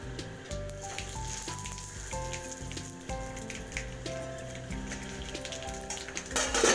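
Dried chili, fenugreek, mustard seeds and bay leaf sizzle in hot oil as a tempering, giving a steady crackling fry with small pops. Music plays over it throughout.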